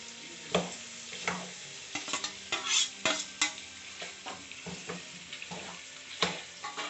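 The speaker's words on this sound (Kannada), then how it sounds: "ಮೊಟ್ಟೆನ ಸ್ವಲ್ಪ ಹೊತ್ತು ಫ್ರೈ ಮಾಡೋಕ್ಕೆ ಬಿಡಬೇಕು." Eggs frying in a pan for an egg curry, a steady sizzle broken by repeated scraping and stirring strokes of a utensil against the pan, close and fairly quiet, with no talking.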